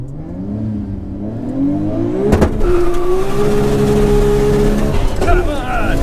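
A 900bhp Nissan Skyline R34 GT-R launches down a drag strip, its engine note climbing steadily through the gears in a loud, sustained roar while a voice talks excitedly over it.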